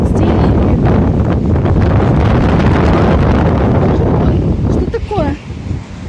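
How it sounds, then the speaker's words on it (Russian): Strong storm wind during a dust storm in Abakan, Khakassia, roars continuously and buffets the microphone with loud, unbroken gusts that ease slightly near the end. "Ветер. Посмотрите, что творится с деревьями."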